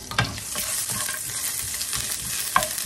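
Vegetables are stir-fried in a pot for xà bần, a Vietnamese Tết dish, with steady close sizzling and repeated scraping stirs of the utensil against the pot.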